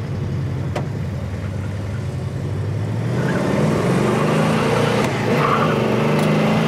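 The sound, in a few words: 1970 Pontiac GTO 455 car being test driven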